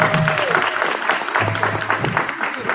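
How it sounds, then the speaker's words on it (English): Applause from an audience closing a convention panel on Bigfoot and cryptids, lively clapping mixed with a few voices and some tonal background sounds, fairly close and loud throughout. "give them a round of applause"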